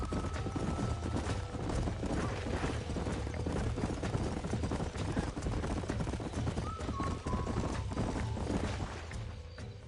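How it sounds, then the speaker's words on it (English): Horse hooves clip-clop steadily in Red Dead Redemption, a dense continuous gallop running throughout with a brief whinny and game background sound mixed in. "These are fine horses."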